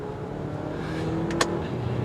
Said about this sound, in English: You can hear that engine liven up.